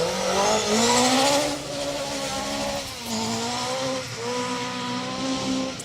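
A Mark 1 rally car climbs a hillside special stage at the RAC Rally, its engine revving hard and rising through gear changes, loud and fairly close, with tyre noise.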